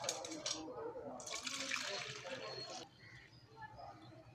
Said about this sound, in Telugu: ఇప్పుడు hot water పోసేయండి. 1 litre hot water పోసేయండి ఇందులో.